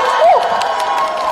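A crowd of fans at a Make Up For Ever product launch event cheers and whoops in a brief, loud burst, with a high shout rising over sustained crowd noise.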